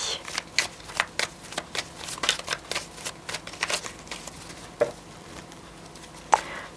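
Tarot cards shuffled by hand at close range, a rapid series of crisp riffling flicks and soft slaps with brief pauses between bursts, no talking.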